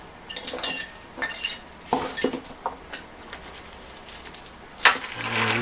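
A box of rivets for a 1925 Ford Model T band relining is flipped around, giving several metallic clinks and rattles in irregular bursts with short pauses, close and fairly loud.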